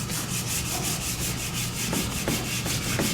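A bike frame is hand sanded with 600 and 800 grit sandpaper, giving a steady close rasping rub that keeps going without a break and pulses faintly with each stroke. No one speaks.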